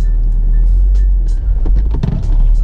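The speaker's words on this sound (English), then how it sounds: "So then you're gonna release the clutch slowly to the bite point. And as you get to that bite point, give it a little bit of gas." A manual car pulls away in first gear as the clutch reaches the bite point, giving a steady, close, low engine rumble throughout with no talking.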